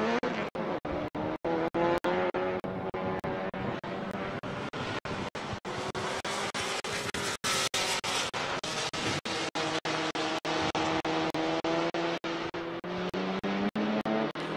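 A Honda Prelude race car engine roars loud and steady at high revs on the Circuit of the Americas track, with quick gear-shift breaks throughout and no voices.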